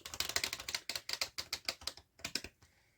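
Tarot cards riffled and shuffled by hand, a quick run of crisp, close flutters and slaps repeating for about two seconds, then a brief pause and a final few snaps, with no voices.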